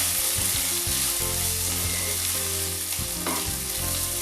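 Rice grains fry and sizzle in a pot while being stirred, a steady close hiss with uneven bursts of scraping and clattering from the stirring, no voices.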